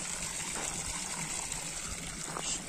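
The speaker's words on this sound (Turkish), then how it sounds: "yazın en sıcak gününde bile buz gibi akıyor maşallah suyumuz" Ice-cold water flows steadily from a garden water source on a hot summer day, a continuous close trickling and gushing stream with no talk over it.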